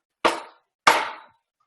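A dead blow hammer strikes twice about half a second apart, each a loud, close, dull thud that rings out briefly, with silence between and after.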